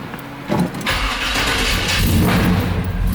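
A Chevrolet K5 Jimmy truck with a double-pumper carburetor, left sitting for two months, cranks briefly and fires up, then settles into a loud, steady, close-up engine rumble.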